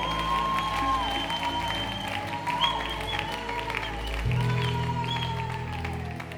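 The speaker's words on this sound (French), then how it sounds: "Applaudissons très bien pour le roi de rois." A congregation at a prayer marathon applauds, its quick, rippling claps running steadily beneath sustained keyboard-like musical tones.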